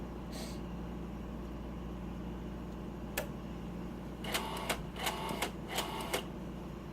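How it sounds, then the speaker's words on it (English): Built-in thermal printer of a Metricon PC 2000 prism coupler printing in short bursts of faint, rapid ticking over a steady low machine hum, with one click before. "So this system comes with a built-in thermal printer"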